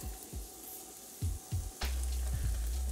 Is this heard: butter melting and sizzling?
yes